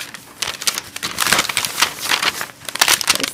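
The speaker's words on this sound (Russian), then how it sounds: "Они всегда упаковывают в такую крафт-бумагу." A parcel of embroidery and craft supplies wrapped in kraft paper is torn open and unwrapped up close, giving loud, irregular crinkling and crumpling bursts of stiff paper.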